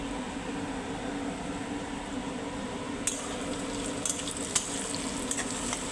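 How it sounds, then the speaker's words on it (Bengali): Onions with two bay leaves fry in oil in a wok, a constant close sizzle joined near the end by a few sharp clicks and spatters. "কড়াইতে আমি তেল দিয়ে পেঁয়াজ ভাজতে বসিয়ে দিয়েছি ওতে একটা তেজপা দুটো তেজপাতা দিয়েছি"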